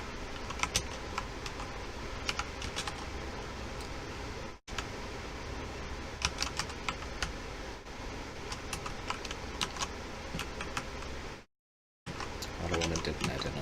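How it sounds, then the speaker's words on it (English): Rapid clicking of computer keyboard keys while someone types during a Payday 2 game stream, steady bursts of keystrokes over a constant background hum, with a brief dropout near the end. "the reason I'm typing it out each time is so that I can copy it"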